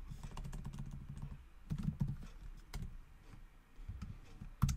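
Fingers type code on a computer keyboard, a quick run of close, crisp key clicks with a brief pause and a heavier tap near the end, no voice over it.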